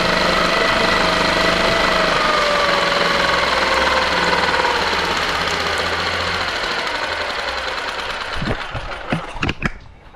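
A Nissan outboard boat motor idles close by with a steady, loud, buzzing drone that slowly eases off, then sputters and knocks irregularly toward the end as the idle screw is adjusted.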